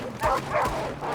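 Wolves attack in Red Dead Redemption 2 with close, loud yelps and snarling barks in quick bursts, mixed with gunfire-like thumps and game noise.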